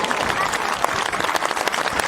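A crowd at a public memorial demonstration claps loudly and continuously, a dense close wash of applause with no pauses.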